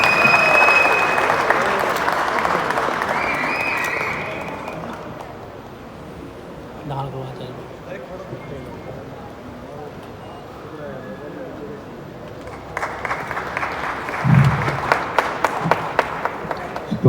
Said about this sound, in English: so please a huge round of applause with Mr. Vinay Sharma.